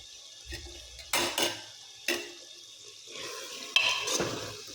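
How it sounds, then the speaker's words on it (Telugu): Mutton curry cooking in a home kitchen pot, with a few sharp metal clanks and scrapes of a utensil stirring against the pot over a low simmering background, close and moderately loud. "మటన్ ఇక్కడ ఉడుకుతుంది."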